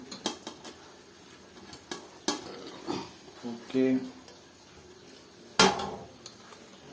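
Egg, chopped onion and green chilli are mixed in a pan for a fish dinner, giving scattered clinks and scrapes of a utensil against the pan, with a brief spoken word.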